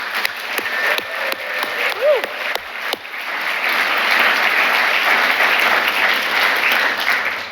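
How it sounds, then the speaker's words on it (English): A large audience at a community awards ceremony breaks into sustained applause, building from a voice speaking into a steady, full wash of clapping. "I just want to have a round of applause for everyone that got nominated tonight"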